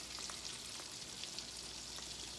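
Cornbread and onion fritters sizzle steadily in a pan just after being flipped, a faint, even crackle of frying oil with scattered small pops and no talking.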